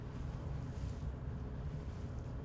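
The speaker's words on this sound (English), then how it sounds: "It's windy here." Wind in Microsoft Flight Simulator 2020 during a Kitfox flight in Idaho: a low, steady blustery roar with gentle surges, fairly faint and continuous, with no talking over it.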